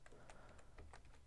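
Typing on a computer keyboard to enter an image search, a quick run of close, light key clicks with a steady low background hum and no talk.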